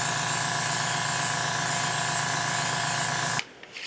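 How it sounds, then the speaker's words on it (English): A high-volume airbrush sprays Tamiya white base coat onto prop parts in a steady, loud, close hiss that cuts off abruptly near the end. "I've got some Tamiya loaded into my high volume airbrush. And I'm just going to get all of these things bright white."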